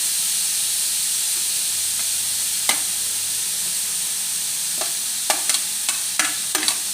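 Eggplant stir-fries with minced pork in a pan, a loud steady hissing sizzle with sharp spatula scrapes and taps clustered toward the end, close up and without speech.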